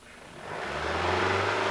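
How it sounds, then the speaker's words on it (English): A car engine being raced during maintenance, revving up from a low idle to a loud, steady high-rpm drone that builds over a couple of seconds. "Race the engine repeatedly and operate the engine for 15 minutes or longer."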